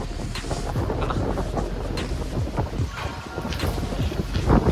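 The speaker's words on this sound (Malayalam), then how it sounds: "ഇപ്പം ഇവിടെ അത്യാവശ്യം നല്ല രീതിക്ക് കാറ്റുണ്ട്" Gusty wind buffets the microphone in uneven bursts at the Bonacaud tea estate in Kerala, a loud low rumble with no voices.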